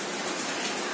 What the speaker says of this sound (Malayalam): ശക്തിയായ മഴ,